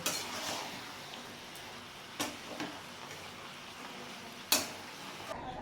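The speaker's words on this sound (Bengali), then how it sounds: "এবার আমি গ্যাসটা বাড়িয়ে খুব ভালো করে নেড়ে চেড়ে নেব কষিয়ে নেবো" A spoon stirs a watermelon rind dish in a pan over a faint low hiss, with a few distinct clinks and scrapes of metal against the pan at irregular intervals.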